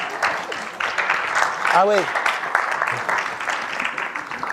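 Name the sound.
audience applause at motivational conference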